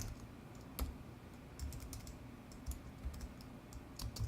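Faint, quick keystrokes on a computer keyboard as Angular code is typed, coming in uneven bursts with short pauses over a quiet room hum.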